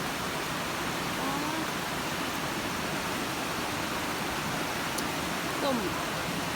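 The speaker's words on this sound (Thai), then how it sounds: "น้ำตกปลาละอู" Pala-U waterfall in Prachuap Khiri Khan, Thailand, sends out a steady, dense rush of falling water that stays loud and even throughout, with faint voices barely audible beneath it.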